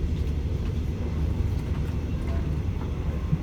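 Steady, close rumble and rattle of a train riding along the tracks, with a dense low clatter and no talking.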